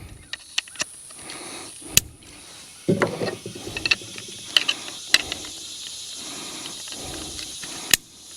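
Plastic tabs snap into place on a Moultrie Pro Hunter II game feeder, producing a few sharp, close clicks and clacks scattered among quieter handling and rattling sounds.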